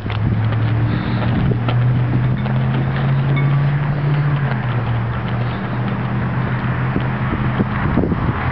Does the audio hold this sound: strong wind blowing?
yes